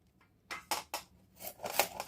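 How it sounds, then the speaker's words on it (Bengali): A hand grater rasps across firm raw mango for pickle, giving about six short, close scraping strokes in an uneven rhythm. Quiet pauses fall between the strokes, and no one speaks. "এইভাবে গ্রেটারের সাহায্যে গ্রেট করে নেব"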